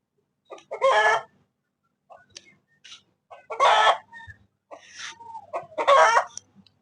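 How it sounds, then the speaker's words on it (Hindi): A village rooster crows three times in loud, close, drawn-out calls spaced a couple of seconds apart, with faint clucks and brief scattered farm noises in between. "ये बांग दे रहा है"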